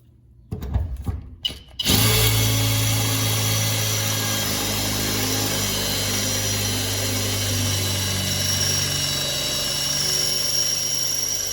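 A power drill with a blunt bit bores through a vehicle roof while a MaxxFan Deluxe roof fan is installed, starting with a few short bursts before running loud and continuous, close by, with no talking.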